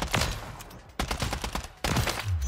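MTZ gun firing in Call of Duty Zombies, three rapid bursts of loud, close automatic gunfire separated by short pauses.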